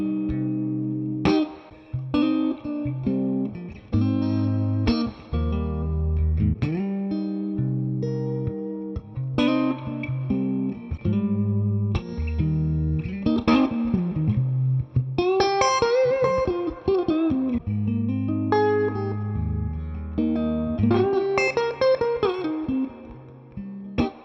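A PRS Silver Sky electric guitar played through a 2-Rock Bloomfield drive pedal rings out in sustained chords and melodic lines with mild overdrive and reverb, loud and continuous with no talking.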